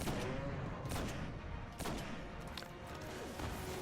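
Gunfire in the shooter Destiny's Warlock Challenge of Elders mode, a few sharp shots and bursts spaced irregularly over a busy, faint battle backdrop.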